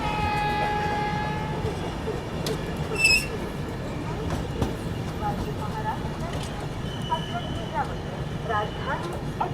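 Rajdhani Express pulling into Jalgaon Junction at night, a steady rolling rumble with a fading tonal whine, occasional metallic clanks and a brief sharp squeal, with background voices mixed in.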